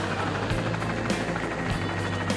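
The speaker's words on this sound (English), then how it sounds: "This is why you never outrun a police helicopter." A police helicopter flies low and close over the ground in Gros Morne National Park, its loud, steady rotor chop throbbing continuously with no voices.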